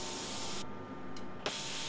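A spray gun lays even wet coats of paint onto a car after extensive bodywork, a steady hissing spray that stops briefly and resumes with a short burst near the end, close and alone with no talk.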